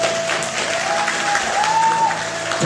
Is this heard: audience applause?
yes